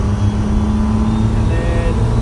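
A squarebody truck with a swapped 1,000+ hp Cummins diesel pulls hard through its gears. The engine drones loud and close from inside the cab, with someone talking over it.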